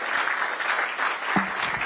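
Audience applause for a sponsor's PR manager at the launch of the 2023 National Science and Maths Quiz championship, steady dense clapping from a hall crowd with a brief voice near the end.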